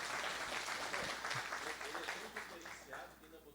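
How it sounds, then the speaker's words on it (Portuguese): A church congregation claps together in steady, dense applause, heard at a moderate distance and fading slightly over a few seconds. "Vamos aplaudir o Senhor de novo pela vida do nosso superintendente."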